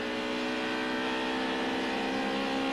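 A 1990 touring car engine with a rough note screams steadily at high revs as it comes out of Copse corner at Silverstone, loud and continuous with no break.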